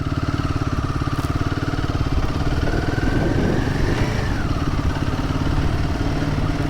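Royal Enfield Guerrilla 450 motorcycle ridden in second gear around 2000 RPM through a town, a loud close engine thrum with an even pulsing beat and wind noise, no talk.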